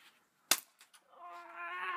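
A single sharp crack of a BB gun fired at a person stands out alone, followed by brief rustles and then a sustained vocal cry.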